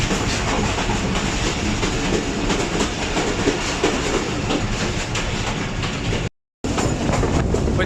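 The Thall Express, a private train between Rawalpindi and Mianwali in Pakistan, rolls along the rails with a loud, steady rumble and rhythmic wheel clatter from on board, broken by a brief dropout near the end.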